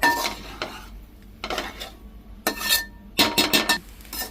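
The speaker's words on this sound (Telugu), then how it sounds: "రైస్ వేసుకొని మంచిగా కలుపుకోవాలి." A spoon stirs cooked rice with soya chunks in a metal pan, giving bursts of scraping and clinking against the pan separated by short quiet gaps.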